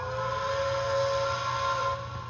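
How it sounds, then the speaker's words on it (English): An MTH Protosound 3.0 model train steam whistle sounds one steady, sustained multi-tone blast, close and fairly loud, holding for about two seconds before tapering off. "Now we can access the bell and whistle."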